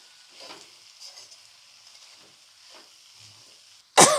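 Raw banana poha being mixed in a pan: soft scraping stirs and a faint sizzle come in a few separate strokes, ending with a sharp, louder clatter.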